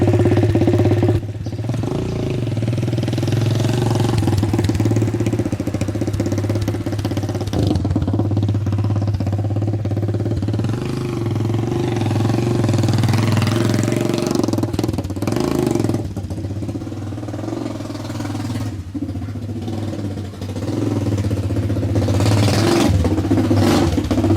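A Doodlebug minibike's small engine runs steadily after repair and winterizing, a loud continuous drone close by with slight revving swells and no talk over it.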